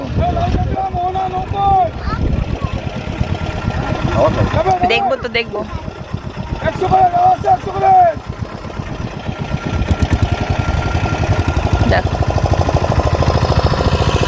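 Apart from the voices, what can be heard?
motor boat ride on shallow water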